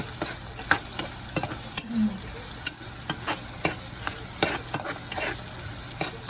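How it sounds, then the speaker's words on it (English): Onions frying in a pan for a sambar, a steady sizzle broken by repeated sharp clicks and scrapes of a utensil stirring against the pan, close and moderately loud with no voices. "we have to fry the onions for about 5 to 7 minutes until they turn about a light brown color"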